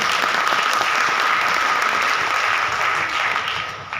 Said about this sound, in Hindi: जबरदस्त तालियां होनी चाहिए एसडी केयर के लिए।